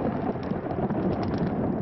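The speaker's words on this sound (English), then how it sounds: "The rumble of thunder." Thunder rumbles as a low, continuous roll, with rain and wind noise over a golf course at a PGA Tour event, the Sanderson Farms Championship at Annandale Golf Club in Madison.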